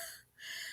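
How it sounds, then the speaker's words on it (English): A single big human yawn, a breathy, drawn-out exhale that dips briefly in the middle before swelling again, faint and close with no talking. "Big yawn."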